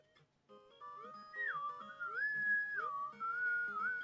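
A person whistles a wavering, sliding melody with held notes and smooth pitch bends, close and fairly clear, over soft game music with a light rhythmic pulse beneath.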